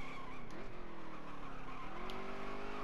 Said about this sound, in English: did a Tokyo drift that time